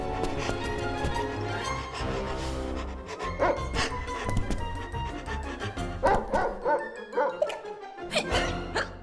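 Cartoon puppy barking in a kids' animated story, a series of short yaps and yips mixed with light clattering effects and background music.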